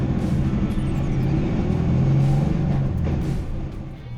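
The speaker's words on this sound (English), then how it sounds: "Nothing gets you motivated to beat lap times than a good starting line rev off." Several cars rumble and rev together at a rallycross starting line, engines held at steady loud idle with rising and falling revs, one note swelling near the middle before easing off toward the end.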